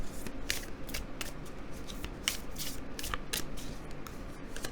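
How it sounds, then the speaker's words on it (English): Oracle cards being shuffled by hand, a steady run of crisp riffling flutters and soft card slaps, close and clear with no talking. "So let's draw you a few oracle cards."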